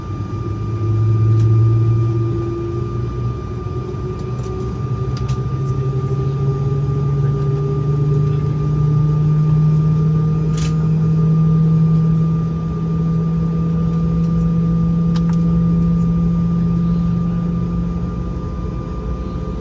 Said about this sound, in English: the E190 uses General Electric engines